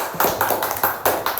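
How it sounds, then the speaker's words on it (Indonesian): Children clapping hands together in a classroom, several quick bursts of claps in a steady rhythm, close and clear with no talking. "Tepuk tangan."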